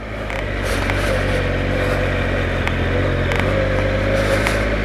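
A Triumph Explorer adventure motorcycle rides off-road, its engine droning loud and steady close by, with scattered clatter and scrapes from the rough track.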